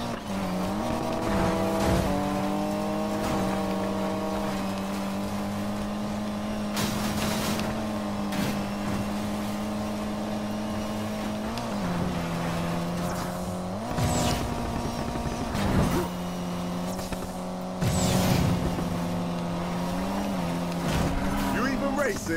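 Off-road race cars in the video game Need for Speed Payback roar continuously, engines droning and shifting pitch with gear changes, with occasional tire squeals and skids, and voices talking over the loud engine noise.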